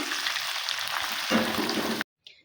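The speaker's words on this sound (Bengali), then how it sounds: "সবগুলো ভেজে নেব" Homemade potato chips frying in hot oil, a steady broadband sizzle that fills the whole stretch, then cuts off abruptly and returns as a faint brief sizzle near the end.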